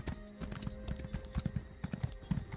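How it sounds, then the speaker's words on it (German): Horse hooves clip-clop in a video game as a mount rides along, a steady run of hoofbeats over a low, steady game backdrop with no talking. "ich finde das so klasse mit dem Pferd"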